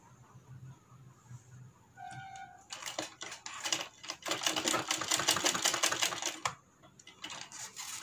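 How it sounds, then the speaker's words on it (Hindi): A sewing machine stitches a kurti sleeve: a brief start, then a steady fast mechanical clatter running for several seconds before it stops and resumes briefly, heard close with a faint electronic beep tone early on. "यहाँ से यहाँ थोड़ा सा सिलाई लगा लेना है"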